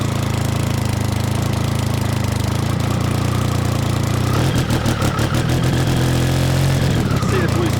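A small engine that has just started first try idles steadily, then rises and wavers in pitch as it is given gas, loud and close with a rough, buzzing tone.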